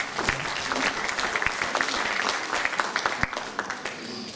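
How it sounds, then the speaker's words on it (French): Warm audience applause for a vocal group at a village festival in Levroux, a dense steady patter of many hands with distinct close claps standing out, continuing throughout. "on va les applaudir très très fort"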